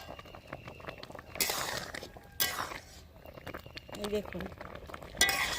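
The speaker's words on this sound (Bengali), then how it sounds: "তো অনবরত কিন্তু নাড়তে হবে, তা না হলে কিন্তু তলাটা ধরে যাবে।" A spoon stirring homemade tomato sauce as it simmers in a pan, giving close scraping strokes against the pan in several bursts over a soft bubbling background, with someone briefly talking.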